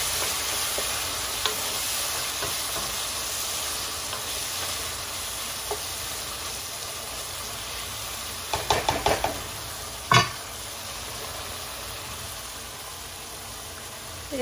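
Meat sizzling in a pan with lemon juice, with a steady low frying hiss throughout and a few sharp spoon knocks and scrapes against the pan near the end, close and fairly quiet, no voices.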